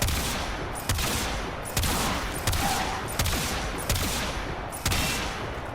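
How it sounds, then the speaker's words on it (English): Alternate fire from a gun in the video game Warframe booms out in repeated heavy blasts, about seven loud shots spaced roughly every second, each with a rumbling tail and no talking over them. "Throwing in some alternate fire here."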